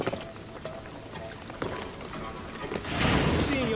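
Steady rain falls across a scene in the video game Shadow of the Tomb Raider, a continuous hiss that swells louder near the end, with voices speaking over it.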